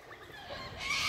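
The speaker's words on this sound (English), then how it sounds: "Kookaburra" A kookaburra calls in the Dandenong Ranges, a short rising cackling cry that grows louder toward the end, close by and heard without talk.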